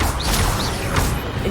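Magic spell effects in the Hogwarts Legacy video game: several rapid whooshing swishes with bright crackling bursts, dense and loud over a constant rumbling game backdrop.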